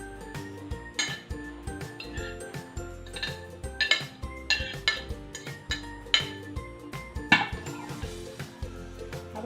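A utensil stirs a batter of squash, malunggay leaves, onion and tomato in a bowl, clinking and scraping against the sides in a steady, repeated rhythm of close taps and knocks.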